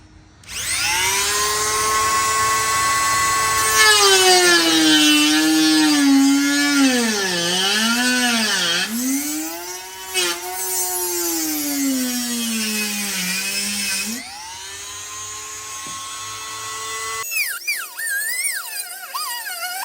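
A small power tool blade cuts an opening in a 2002-2006 second-generation Honda CR-V for a JDM side marker light, a loud, close, high whine that dips and rises in pitch as it bites, then stops abruptly.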